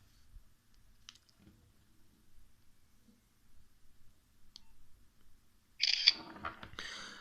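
A Nokia 6822 phone camera takes a photo with a soft, brief shutter click after faint handling noises, in an otherwise quiet room.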